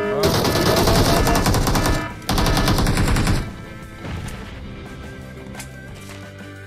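Rapid automatic gunfire in a shooter video game, two long, loud, close bursts of dense rattling shots separated by a brief gap, then fading into quieter scattered game sounds.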